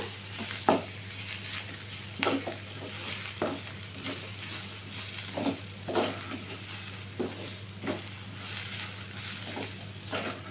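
Onion palya with coriander leaves sizzles in hot oil while a spoon stirs it, with a steady low frying hiss broken by scraping strokes against the pan at an irregular pace.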